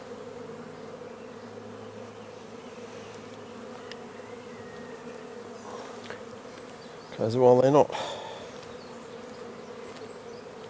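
Honeybees buzzing steadily at an opened farm hive, a continuous near drone with a louder burst as a bee passes close, under brief talk.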